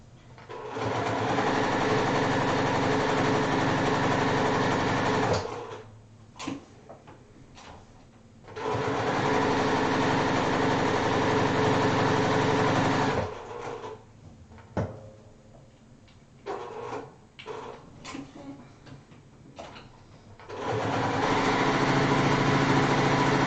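A sewing machine stitches the sides of a square fabric coaster in three long continuous runs, loud and close, separated by quieter gaps with small handling clicks and bumps.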